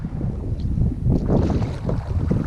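Strong wind buffets the microphone on open water during kayak fishing from a Pelican Castaway kayak, a steady loud rumbling roar with gusty swells and faint water sounds beneath.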